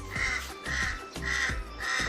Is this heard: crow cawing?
yes